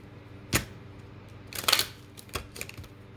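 Short crisp papery snaps and riffles of tarot cards being shuffled, three or four bursts spaced irregularly, close and fairly quiet with no talking.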